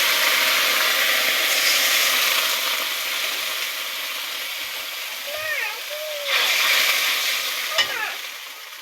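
Cumin seeds tempering in hot oil with green chili and cumin paste, a steady broadband sizzle that swells and fades, with brief bird-like chirps and a short clatter near the end.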